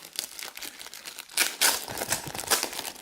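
Plastic packaging crinkling and rustling as a felt-backed keyboard cover for a Linx 12V64EDO tablet is pulled free, with bursts of crackling and sliding close by and no talking.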